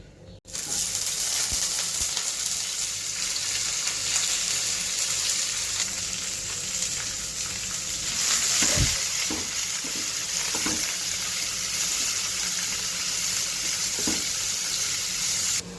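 Chopped cabbage cooks in a pan with a continuous close sizzle, broken now and then by stirring scrapes and a few soft knocks. No one speaks.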